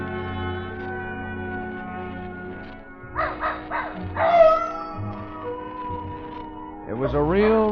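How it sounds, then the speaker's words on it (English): A dog named Nugget barks and yips toward coyotes in the hills at night, with sharp calls rising over a sustained musical background and moderately close howl-like whines. "Old Nugget the dog was carrying on a long-distance conversation with his country cousins, the coyotes up in the hills"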